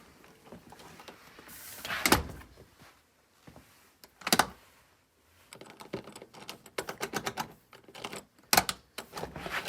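Handles are fitted to a house's front door, which is then worked: scattered clicks, clunks and rattles of hardware, a couple of louder knocks and a quick run of small latch clicks, all fairly close.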